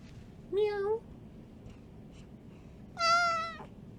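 A cat meows twice indoors during a podcast recording: one short meow near the start and a longer, louder one about two and a half seconds later, both close and clear over a quiet room hum.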